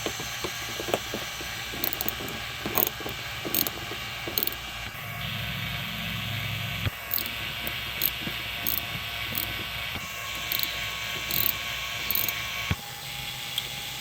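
A hand ratchet drives small Torx screws into the plastic fender liner of a Chevy, giving repeated quick clicking bursts up close with brief pauses between turns.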